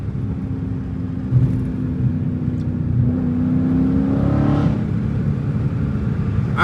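A straight-piped Dodge Challenger Scat Pack droning through a tunnel, with a low enclosed rumble that swells as the engine note climbs and blips during a downshift, then settles back to a steady cruise.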